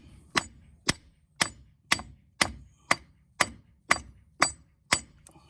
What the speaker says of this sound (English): I get a block of wood and a hammer and I beat the crap out of it